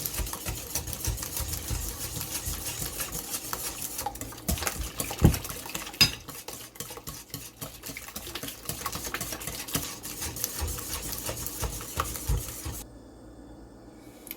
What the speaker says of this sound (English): I might switch over and just use my whisk to make sure those eggs are really well combined.